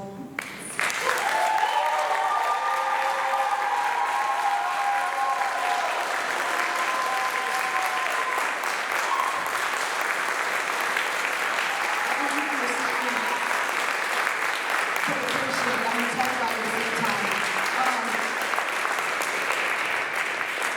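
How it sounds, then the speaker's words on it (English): Sustained audience applause and standing ovation at a school awards night in an auditorium, dense even clapping for about twenty seconds with faint whoops and cheers over it, no speech. "You may stand up and receive your applause."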